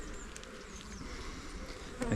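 Honey bees buzz steadily at close range during a hive inspection, a dense droning hum with individual bees whining past, alone without talk.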